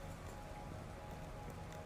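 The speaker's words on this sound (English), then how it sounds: "You can hear it raining." Steady rain falls in Minecraft, a soft continuous patter over rivers, faint and even across the short stretch with no voices.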